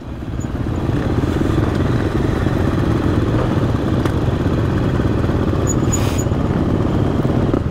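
Enduro motorcycle engines roaring steadily at close range during the Enduro du Touquet race, a continuous loud drone with mechanical clatter and no talking.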